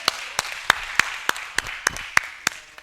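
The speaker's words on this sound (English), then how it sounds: "Give a round of applause." A small audience claps at a motivational goal-setting talk, sounding as sparse, distinct hand claps in an uneven rhythm, fairly close and not overlapped by voices.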